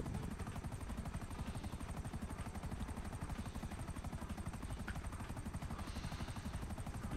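Helicopter rotor in GTA V Online, a steady rapid chopping thud that runs without a break at moderate loudness, with no voices over it.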